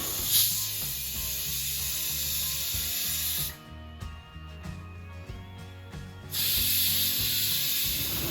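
Pressure cooker on a kitchen stove cooking dal, letting off loud steady steam hiss that breaks off midway and then returns just as strong, with faint whistling tones and clinks in the quieter gap.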